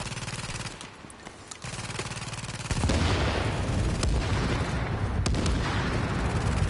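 Rapid gunfire and explosions in the video game The Division: dense bursts of automatic shots give way to a louder, sustained rumbling barrage, heavy and continuous.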